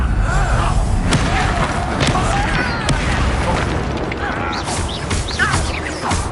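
Incendio fire spell cast during a duel in Hogwarts Legacy, a loud whooshing burst with booming crackles and clattering impacts layered over continuous battle noise.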